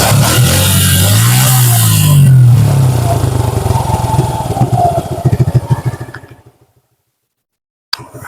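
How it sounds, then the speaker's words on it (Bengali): A new, barely run-in motorcycle engine runs loud and steady, its low rumble rising in a brief rev before dying away into silence, then a short final burst of noise. "ভাই বাইকটা স্টার্টে আছে"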